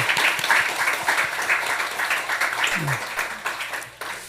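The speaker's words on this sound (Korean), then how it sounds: "우리 박수로 한번 격려하겠습니다" A church congregation claps for the choir during a Sunday worship service, a moderate, steady patter of applause with some voices murmuring underneath, thinning slightly near the end.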